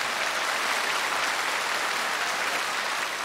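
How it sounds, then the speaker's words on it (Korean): A large outdoor crowd at a KBS music show for a citrus festival eve in Jeju gives steady, dense applause for the KBS house orchestra, loud and continuous with no speech. "우리 KBS 전속 악단 박수를 부탁드립니다"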